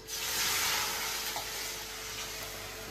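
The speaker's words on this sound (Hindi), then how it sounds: "इधर हम लगा देते हैं अपनी चटनी में तड़का" Tempering sizzles and crackles steadily in hot oil poured over chutney for paneer momos, a loud, continuous frying hiss close to the mic with no talking.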